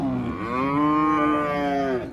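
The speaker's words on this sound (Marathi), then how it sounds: "या चार गाई पाराट आहे मित्रांनो" A single long, loud moo from a dairy cow at the Kopargaon cattle market, close and sustained for about two seconds with no talk over it.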